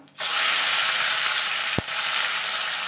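Shrimp rubbed with salt and turmeric drop into hot oil over a light cumin tempering in a pan, bursting into a loud, steady sizzle that holds throughout, with one brief clack near the end.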